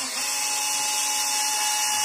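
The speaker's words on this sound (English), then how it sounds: "It's perfectly safe to use a power driver with this stuff." A power driver backs pickguard screws out of a Squier Stratocaster Affinity electric guitar, giving a steady, close, high-pitched motor whine that runs unbroken throughout with no speech.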